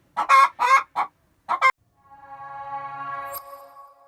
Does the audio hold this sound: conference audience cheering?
no